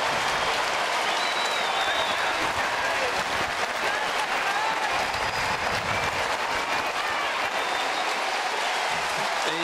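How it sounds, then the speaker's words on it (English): A stadium crowd at an AFL football match, Geelong against Sydney, roars and cheers in a loud, continuous wash that fills the whole clip, with faint voices mixed in. "Listen to that. Crowd of cheering Gary Ablett as he comes from the field."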